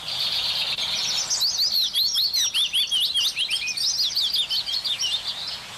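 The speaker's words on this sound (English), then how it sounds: "the willow warbler" A willow warbler sings a bright, descending cascade of sweet whistled notes, repeated in quick phrases over about five seconds, close and clear against a quiet background.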